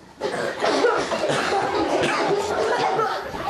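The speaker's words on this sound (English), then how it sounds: "Show me how we cough." Several people cough in quick succession, mixed with murmured chatter and a little laughter in a busy room.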